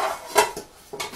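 A metal pot lid clatters against a pan during a stir fry, two or three short close clinks with quiet gaps between them.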